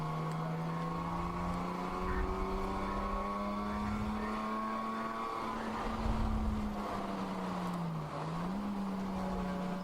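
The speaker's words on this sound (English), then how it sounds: "He's going to come around this car and follow the Miata up the hill." A Mazda Miata endurance race car and others on the Watkins Glen circuit hold a loud, steady engine drone, with a brief pitch dip near the end as a gear changes, and no talk.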